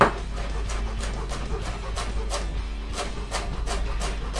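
A knife chops a bunch of parsley on a board for clear soup, tapping in quick, fairly regular strokes close by, with a low hum underneath.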